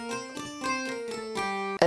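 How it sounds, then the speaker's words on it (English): A plucked Taishogoto, a Japanese keyed zither, plays a short run of bright, metallic, evenly paced notes in a small room, with a room reverb adding a slight tail. The notes are clear and close, with no voices. "I added a room reverb so it sounds more realistic."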